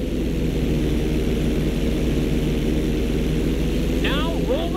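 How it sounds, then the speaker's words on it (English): Propeller stunt plane in Grand Theft Auto V flight school rolling over: a steady, loud engine drone fills the whole stretch, with a brief whooshing sweep near the end. "When you're fully inverted, then roll the plane over."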